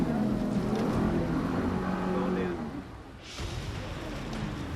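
A muffled Toyota Hilux engine drones steadily under sloshing water during a deep water crossing, with a talking voice over it; the sound dips and thins partway through before resuming.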